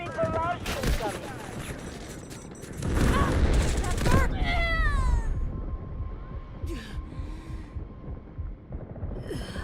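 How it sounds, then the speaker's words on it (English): Artillery barrage and gunfire in the military shooter video game Delta Force, with dense bursts of booming explosions and rattling shots building to a loud crescendo midway, then fading into scattered distant fire under radio-style voices and game alerts. "Artillery barrage incoming."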